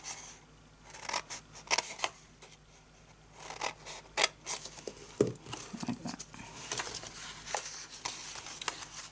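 Scissors snip through paper for a gift box in a series of close, crisp cuts with irregular rhythm, accompanied by soft rustling and handling of the paper.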